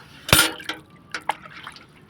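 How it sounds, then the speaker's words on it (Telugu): Kitchen waste liquid, water mixed with vegetable scraps, banana peels and used tea powder, is poured out as plant feed, making a few short splashing bursts with quieter drips and trickles between, close and clear with no talking. "చూడండి, ఈరోజు మన కిచెన్ వేస్ట్ లిక్విడ్ అన్నమాట"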